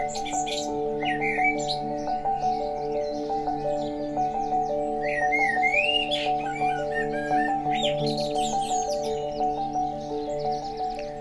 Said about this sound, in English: The birds begin to chatter,